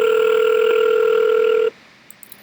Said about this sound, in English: we'll see now that we can actually make a phone call